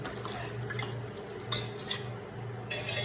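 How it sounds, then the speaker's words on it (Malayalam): A lemon pickle with asafoetida is stirred in a pan, producing close metallic scrapes and clinks of a spoon against the pan over a soft, wet bubbling background. "നന്നായിട്ട് നമ്മൾ മിക്സ് ചെയ്യുക."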